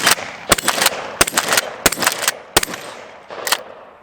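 A Winchester 97 pump shotgun fires five loud shots in a row, each a sharp blast spaced about two-thirds of a second apart and trailing off in echo, with no talking.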